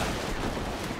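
Players in a video game prop hunt spamming their guns, a dense loud wash of rapid overlapping gunfire filling the whole second without pause.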